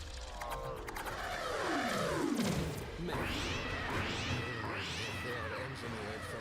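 Several big cats in the Warframe video game give long, wailing meows that rise and fall in repeated calls, loud and fairly close over a steady low background hum.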